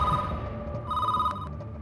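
A telephone rings with a steady electronic tone over low background noise, brief and fairly loud.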